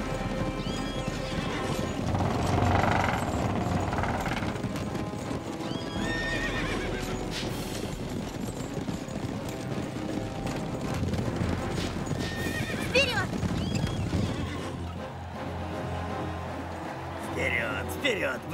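Horses gallop with steady drumming hoofbeats and let out neighs during an arena contest, loud and close, while a voice talks excitedly over them.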